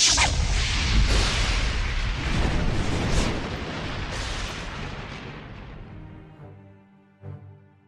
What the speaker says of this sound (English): the evil fairy Maleficent appeared in the flash of green fire.